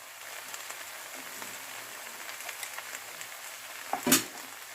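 Vegetables frying in a pan with turmeric, cumin and coriander powder and salt for a Bengali labra, a soft continuous sizzle with faint crackles, ending in a sharp clatter near the end.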